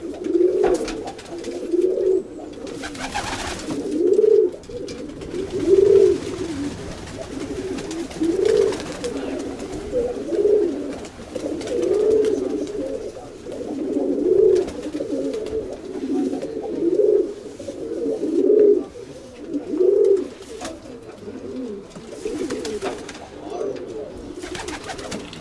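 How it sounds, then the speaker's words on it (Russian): Armenian tumbler pigeons coo repeatedly in a steady, rhythmic series of soft low calls lasting throughout, fairly close, with faint background noise and occasional rustling. "Голубь с бровями."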